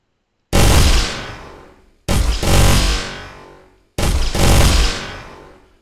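Weapons fire in an Unreal Engine 4 game demo using the Easy Ballistics plugin in multiplayer. Three loud, close bursts of rapid gunfire, each starting abruptly and trailing off over a second or so, are separated by short silences.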